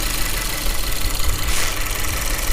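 A Ford Taurus SHO engine idles steadily at close range with its cover off during an oil and fluid service, a dense, even rumble and whir with no voices.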